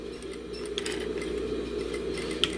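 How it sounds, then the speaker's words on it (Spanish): An industrial straight-stitch sewing machine fitted with a 3-in-1 presser foot stitches along a zipper, a steady close mechanical whir with light rhythmic clicking and no talk. "Vamos a coser aquí"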